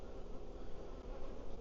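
Honeybees in an open hive during an inspection make a dense, steady buzzing hum, faint but continuous, with no talk over it.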